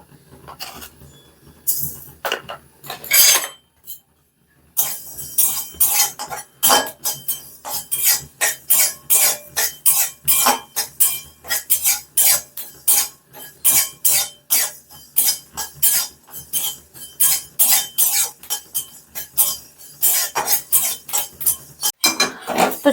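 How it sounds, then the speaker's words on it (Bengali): Dry panch phoron spices rattle and clink against a dry kadai as they are stirred and tossed, a quick steady rhythm of bright metallic scrapes, close and alone after a short pause near the start. "আমি শুকনো কড়াইয়ে 1 চামচের মতন পাঁচ ফোড়নটা ভেজে নেব"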